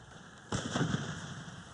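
A flashbang goes off during police training inside a real building, giving a sudden sharp bang followed by a short rumbling, crackling tail with steady background noise.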